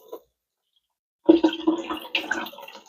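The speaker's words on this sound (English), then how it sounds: "Give them a good rinse." Water splashes and runs while broccoli sprouts are rinsed in a jar, a close, busy burst of splashing and trickling that starts after a short pause and carries on irregularly to the end.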